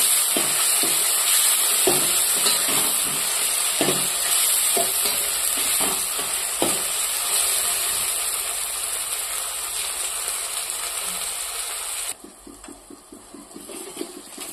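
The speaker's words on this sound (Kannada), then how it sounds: "ಟೊಮೆಟೊ ಮೆತ್ತಗೆ ಆಗಬೇಕು ಫ್ರೈ ಮಾಡಬೇಕು" Tomatoes frying in a pan in a dhaba-style kitchen give a steady, loud sizzle with repeated stirring scrapes and knocks. The sizzle thins out near the end.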